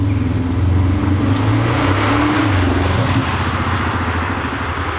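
A Tesla fitted with an aftermarket exhaust sound system accelerates hard, giving off a loud, steady synthetic engine roar that holds a constant drone close to the listener throughout, with no talk.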